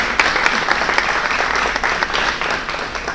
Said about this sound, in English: let's give Justin a hand clap